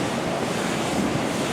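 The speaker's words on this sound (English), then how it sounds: "Wow, look at the water coming right there through that break." Water rushes through a break in a temporary dam at the Ozark Mill after heavy January rains, making a steady, close, broadband roar mixed with wind buffeting the microphone, with no talking.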